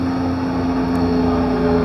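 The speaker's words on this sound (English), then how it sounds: "Damn, helicopters." Helicopters pass overhead in a steady, loud, unbroken rotor-and-engine drone with a constant hum, with no voices over it.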